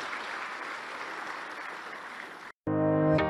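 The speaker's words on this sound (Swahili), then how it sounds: "Naomba viongozi tuwashukuru kwa kuwapigia makofi viongozi wetu wa dini." A crowd at a religious gathering applauds its religious leaders with steady, dense clapping that runs loud and even for about two and a half seconds. It then breaks off abruptly into a brief silence, followed by an unrelated tonal sound.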